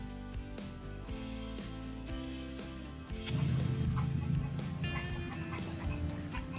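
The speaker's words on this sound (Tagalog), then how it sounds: "Ayan na, nagkagulo ng mga manok." Chickens break into a noisy commotion, clucking and squawking over each other in a loud burst after a few seconds of lower, rhythmic background sounds.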